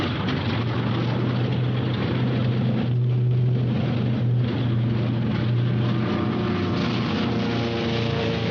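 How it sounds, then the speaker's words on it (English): American propeller warplanes of the Pacific campaign drone overhead in a dense, continuous engine roar that swells slightly and then steadies, with no voices heard. "the American planes are returning"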